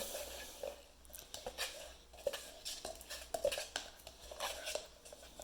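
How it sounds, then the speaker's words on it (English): Homemade slime, made with Tide, is stirred in a dish with a utensil, giving close, irregular scraping and clinking taps against the dish over a faint wet squish. "So I'm just stirring this up really good."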